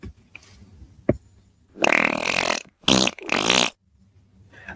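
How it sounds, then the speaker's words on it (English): Several loud, close fart-like blasts, one long buzzing burst followed by two shorter ones after a brief pause, with quieter room noise and a small click before them. "Who farted?"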